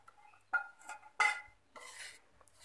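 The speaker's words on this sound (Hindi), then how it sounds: "सो ये देखिए हम इसे मिक्स कर रहे हैं" Spoon scraping and clinking against a pan while besan barfi mixture is stirred with sugar syrup, a few sharp, close knocks between quieter scraping strokes.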